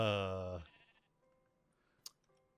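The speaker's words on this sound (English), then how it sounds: "We got a pink sheep." A pink sheep in Minecraft lets out a single loud, harmonic bleat that fades within half a second, then near quiet with a faint hum and one sharp click.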